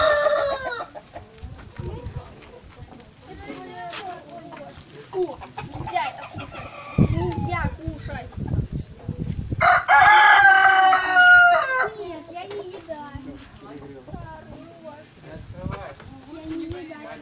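Hens cluck and murmur close by while a rooster crows loudly partway through; people talk intermittently over the noise of a Cossack farmstead.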